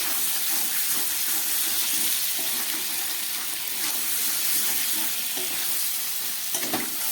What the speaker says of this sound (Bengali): এবার আরও খানিকক্ষণ কষাবো।